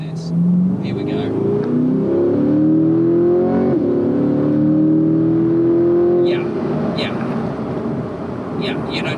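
A 2022 Corvette C8 Stingray's 500 bhp engine roars and revs hard, pitch sweeping steadily upward as it accelerates, loud and close, then easing off near the end.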